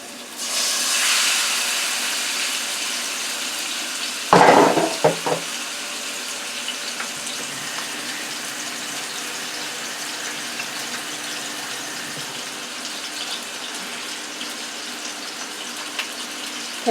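A piece of chicken for honey mustard chicken goes into a hot sauté pan with a sharp burst of hiss, followed by a brief clatter and a steady, quieter sizzle.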